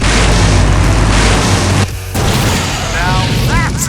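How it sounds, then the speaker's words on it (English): An explosion in the video game Full Throttle booms loudly and rumbles, breaks off in a short gap, then trails into debris noise and brief chirping tones. "Now that's an explosion, ladies and gentlemen."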